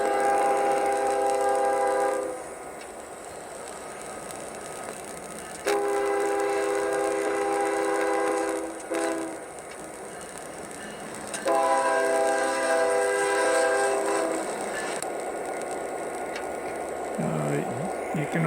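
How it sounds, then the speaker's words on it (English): Diesel locomotive horn, likely a train simulator, blows a grade-crossing sequence: several long harmonic blasts separated by brief gaps, with a steady engine rumble underneath. "I also have a horn sequence that if you were approaching a crossing"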